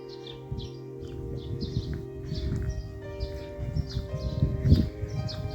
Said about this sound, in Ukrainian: пташки цвірінькають.